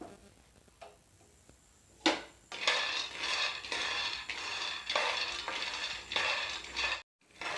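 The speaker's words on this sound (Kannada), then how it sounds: "ಈಗ ಇದಕ್ಕೆ ಶೇಂಗಾ ಸ್ವಲ್ಪನ ಶೇಂಗಾ ಹಾಕ್ಕೊಂಡು ಹುರ್ಕೊಳ್ಳೋಣ ಚೆನ್ನಾಗಿ" Peanuts roasting and being stirred in a dry pan, a busy run of dry rattling scrapes and ticks that starts abruptly after a quiet lead-in and continues steadily close by, then cuts out briefly near the end.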